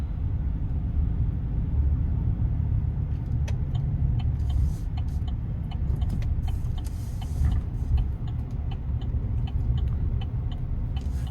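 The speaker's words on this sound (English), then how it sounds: "I like the sound you get from the engine bay." Steady, close drone of a 2026 Chevrolet Silverado 1500 Custom pickup's TurboMax engine while driving, a strong low rumble with road noise and a few faint clicks, no talking.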